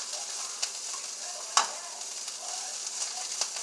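Kale cooking on a low flame in a pan, a soft steady hiss with light stirring taps and one sharper clack midway, near and fairly quiet.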